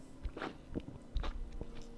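Close, quiet slurps and mouth sounds of someone sipping Pepsi Max, several short irregular bursts over a low background hum, with no talking.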